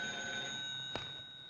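A cartoon telephone rings faintly in the background, a steady high electronic trill held for the whole moment with a small click partway through.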